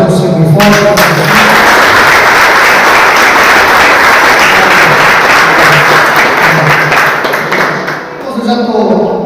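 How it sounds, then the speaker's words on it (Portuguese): A church congregation at an evangelical service in Botucatu, Brazil, applauds loudly and steadily for several seconds, a dense wash of clapping with voices mixed in, dipping briefly near the end. "Você pode aplaudir o Senhor bem forte?"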